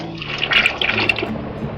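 About 2.25 litres of water is poured into a cooking pot of chana pulao, a continuous splashing, gushing pour heard close and alone.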